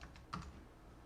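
Quiet keystrokes on a computer keyboard, a few soft clicks close by with a slightly louder tap near the middle, alone with no talking.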